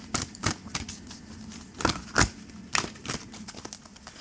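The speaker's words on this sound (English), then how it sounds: "these are hard to shuffle, they're so big." Large oracle cards are shuffled by hand, a series of close, crisp flapping and riffling bursts at an irregular rhythm, with no talk.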